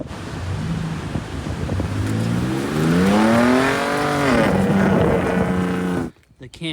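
A Ford Ranger Raptor climbs over a sand dune in Western Australia, its engine note rising and falling as it revs hard, loud and close, before cutting off abruptly near the end.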